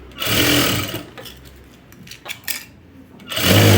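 A sewing machine stitches piping onto cloth in short bursts, loud whirring runs at the start and end with quieter handling and faint clicks between them.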